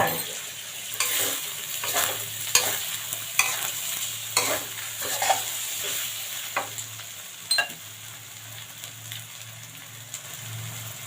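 Preserved radish and egg being stir-fried in a pan with oyster sauce and sugar, a continuous sizzling hiss under a steady run of clattering spatula scrapes and taps, close up.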